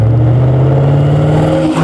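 A Maserati Ghibli's 4.9 liter V8 engine revs loudly and close by, a deep, sustained droning growl that holds steady before dipping briefly at the end.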